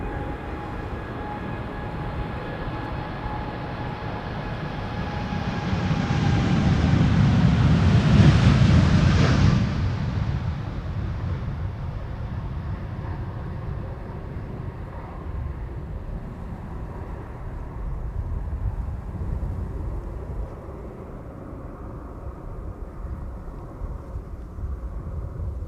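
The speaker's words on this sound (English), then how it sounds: "this is TUI flight 387 to Aruba" TUI airliner on flight 387 to Aruba passing at Schiphol in crosswind, a jet roar swelling to a loud peak midway then fading into a long rumbling trail, no speech.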